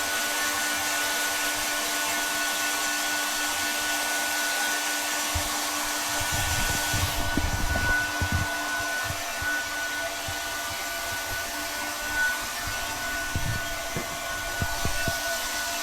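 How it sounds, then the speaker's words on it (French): A hair dryer drying clothes in a hotel room in Osaka blows steadily with a constant whirring hiss, close and continuous, with occasional rustling and soft bumps as it moves. "c'est devoir finir de sécher les vêtements au sèche-cheveux"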